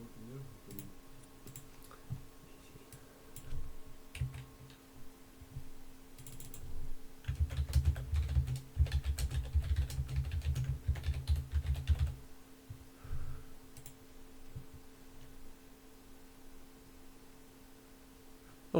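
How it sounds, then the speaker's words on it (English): Quiet tapping on a computer keyboard and clicks of a mouse come in close, irregular bursts over a low steady hum, loudest in a dense run midway, with brief talk. "I can hear me tapping on the mouse and tapping on the keyboard"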